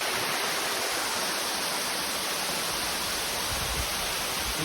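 Steady broadband rush of a waterfall at a hidden scenic spot, a constant loud roar of falling water filling the scene with no pauses or voices.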